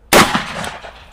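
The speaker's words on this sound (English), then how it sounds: "44 Magnum versus watermelons" A single loud, sharp .44 Magnum revolver shot fired into watermelons, a sudden crack followed by a brief ringing decay, no talk.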